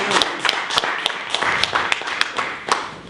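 An audience at a comedy roast held in a church claps and applauds, a scattered burst of hand claps close by, fairly loud and continuous for a few seconds.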